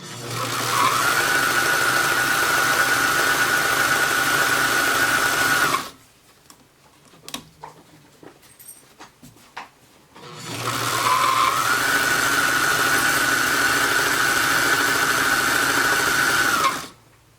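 A Brother sewing machine stitches an envelope pillow in two long runs, a loud, steady whirring hum close by, separated by a pause filled with small clicks and fabric handling.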